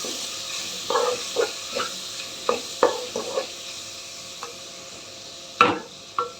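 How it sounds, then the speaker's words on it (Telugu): Two large, finely chopped tomatoes fry in a pan with a soft background sizzle, punctuated by about a dozen distinct scraping and clinking stirs at irregular intervals, close up and without talking. "ఇప్పుడు టమోటా వేస్తాను. సన్నగా కట్ చేసి పెట్టుకున్న టమోటాలు, 2 టమోటాలు పెద్దవి. ఇవి కూడా బాగా వేగనిద్దాం."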